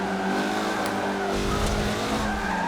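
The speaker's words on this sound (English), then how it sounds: "My back tires caught the grass and it was over." A 2013 Mazda MX-5 Cup race car in Forza Motorsport 7 slides with its rear tires on grass, a steady engine drone mixed with rough scrubbing and skidding noise throughout.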